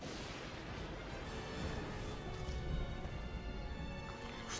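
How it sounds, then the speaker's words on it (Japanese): Gunfire during the Honnō-ji uprising cutscene in Nobunaga's Ambition Shinsei PK, a continuous rumbling, crackling wash of distant shots and commotion with no clear single reports, steady throughout. "銃声に目覚めた信長に故障より謀反の旨が伝えられた"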